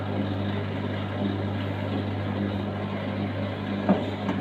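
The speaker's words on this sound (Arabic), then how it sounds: "كده تمام، شغالة معايا الغسالة." A top-load automatic washing machine with an E2/E3 drain and spin fault runs as a steady, even motor hum with a low mechanical drone, and there is one faint click near the end and no talking.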